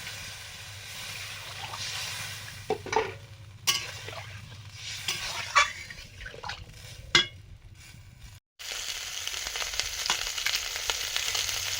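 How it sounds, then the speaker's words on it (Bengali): Curry broth for magur fish boils in a pan, a continuous bubbling sizzle with occasional sharp clinks and stirring sounds from the cookware. "ঝোল ফুটে গেছে"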